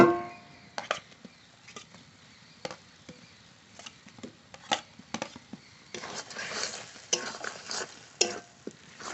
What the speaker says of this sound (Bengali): মশলার সাথে আলু মাখিয়ে নিয়েছি